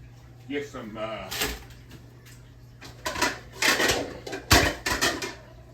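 A bigger mixing bowl pulled out in a kitchen: cupboard door bangs, clattering knocks and a bowl set down, mixed with someone talking.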